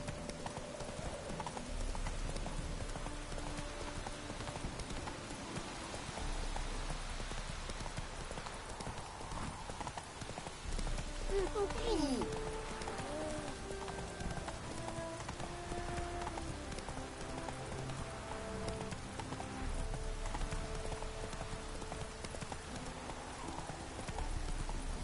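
Roach the horse gallops in The Witcher 3, a steady rhythmic clip-clop of hooves over a game soundtrack, with a brief whinny partway through.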